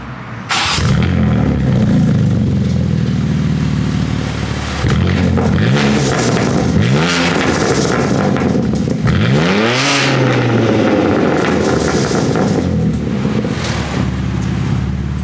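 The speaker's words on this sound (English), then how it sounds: "so let's get this cold start" A car engine fires up from cold and is revved several times, loud and close, each rev rising and falling over a steady idle.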